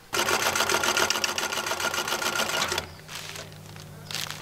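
A sewing machine stitches insulated curtain fabric for a converted school bus, running in a loud, rapid continuous whir for nearly three seconds before slowing to a quieter, lower hum with lighter mechanical ticks.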